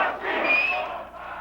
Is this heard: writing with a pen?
no